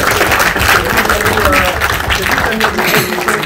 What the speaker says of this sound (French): José Torino, on peut applaudir. Bravo!